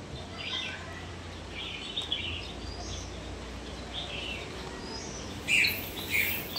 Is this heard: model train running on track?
no